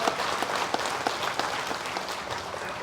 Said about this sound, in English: please give a round of applause to our respected finance minister